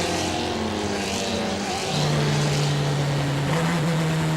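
A racing car engine at a GP Masters race in Doha sounds distant and steady, its pitch climbing then holding high as the revs build, mixed with broad crowd and track noise.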